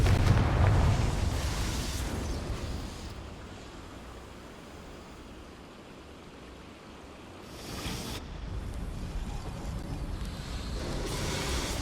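A Confringo fire spell bursts in Hogwarts Legacy with a loud, broad roaring blast that eases into a rushing, crackling rumble, then swells again with more fiery whooshes.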